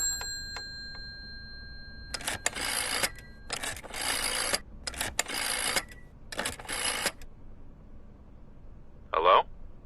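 A telephone in the Layers of Fear horror video game rings in a series of rattling bell bursts with short pauses between them. A brief bright chime follows the rings.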